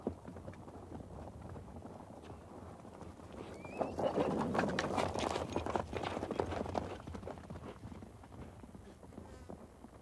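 Horses ridden by nomadic herders clip-clop across open ground, a dense patter of hooves that swells louder midway and then eases back, with faint background activity and no clear talking.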